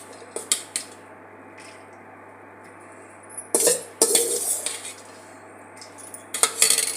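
Bhel puri mixture scooped onto a plate: a few sharp metallic spoon clinks and scrapes against dishware, with short bursts of clattering between quiet pauses.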